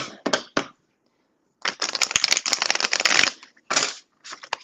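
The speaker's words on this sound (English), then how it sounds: "I'm just gonna pre-shuffle while I'm waiting." A deck of tarot cards is shuffled up close in quick papery riffles and slaps. Two short bursts come first, then a longer run of rapid card flutter, and a few final taps follow.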